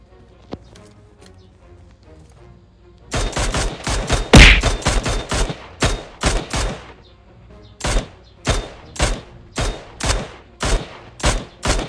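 Gunfire in the mobile battle royale game PUBG Mobile: after a quiet stretch, loud close bursts of rapid shots break out, with one sharp blast, then repeated short volleys at a steady rhythm.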